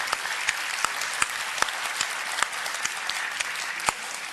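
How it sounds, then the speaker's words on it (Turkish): An audience claps steadily and continuously for an amateur folk music choir at a festival in Mersin, a dense wash of applause with occasional louder individual claps. "Onlar için alkış istiyorum."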